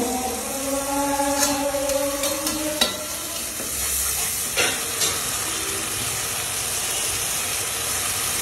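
Bottle gourd curry with shrimp being stirred in a pan, a steady frying sizzle and hiss running throughout with a few sharper clinks of the spoon against the pan.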